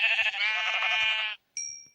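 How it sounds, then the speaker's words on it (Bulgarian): A Minecraft sheep bleats once in a long, nasal, wavering cry, followed after a short pause by a brief higher electronic tone; the game sound is clear and close with no talking. "Ето тук е пълно с овци."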